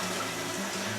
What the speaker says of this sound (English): I'm now going to take this up to 40 pints, 5 gallons or 23 litres by using some cold tap water